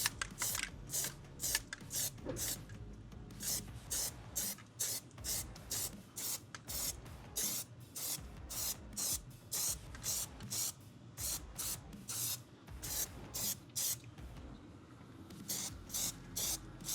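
Plasti-Dip is sprayed in a super-light first coat onto a van, short hissing bursts repeating in a steady rhythm for the whole stretch, close and moderately loud, with no talk.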